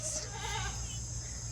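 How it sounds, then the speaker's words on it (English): Goats bleat at a feeding spot on a Pattaya farm, a few wavering calls close by over steady background hum, with no talk during the moment. "Who are you feeding? Goats."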